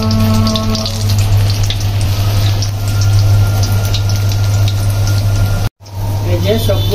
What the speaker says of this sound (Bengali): তা এখন থানকুনি পাতা দিয়ে যে পাকোড়া গুলো বানাবো সেগুলো ভেজে দিচ্ছি সুন্দর করে